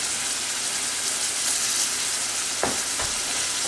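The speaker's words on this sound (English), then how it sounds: "we are just about done cooking our ground beef" Ground beef fries in a pan with a loud, steady sizzle close by, and a couple of brief utensil scrapes come near the end.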